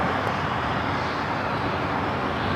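A Boeing 747-400 passes directly overhead at Los Angeles International Airport, a steady, loud, broadband jet engine roar that holds evenly throughout with no talking.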